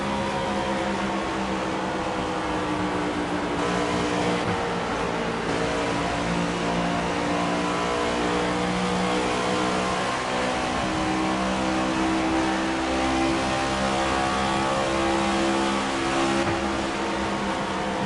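Steady in-game car engine in Fortnite, a continuous droning hum with a constant tone and no pauses or clear revs, fairly loud and alone throughout.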